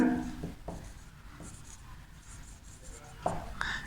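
A pen or chalk writes words on a board in a classroom pronoun lesson, making close scratchy strokes separated by short pauses, with sharper taps where strokes begin.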